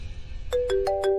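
A phone rings out while someone calls from inside a stuck, descending lift: four short, bright electronic tone bursts in quick succession, close and clear, with no talking over them.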